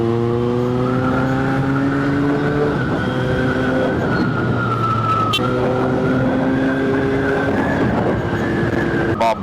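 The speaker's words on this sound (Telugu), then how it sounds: "నా ఎగ్జాస్ట్ నోట్ ఒకసారి విని" A superbike's exhaust note while riding, a loud continuous engine drone with steady harmonics that rise and dip as the throttle changes, close to the microphone with no talking.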